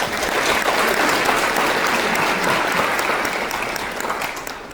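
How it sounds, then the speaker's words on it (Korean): Audience in a lecture hall applauds after a presentation on intelligent signal analysis, a short burst of steady, even clapping that fades slightly at the close. "좋은 발표해 주신 김재현 관장님께 다시 한번 큰 박수 부탁드리도록 하겠습니다"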